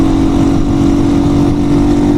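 A Chinese motorcycle, ridden in third gear, revs hard as the throttle is twisted. The engine drones loud and steady throughout with no pauses, close to the listener.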